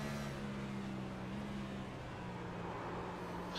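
Interior of the number 61 stock race car during an ARCS Cup Series race in Nashville, a steady droning engine hum with a sustained low tone that dips slightly in pitch, continuous and moderately loud with no talking.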